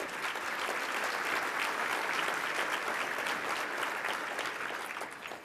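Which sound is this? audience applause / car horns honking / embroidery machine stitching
audience applause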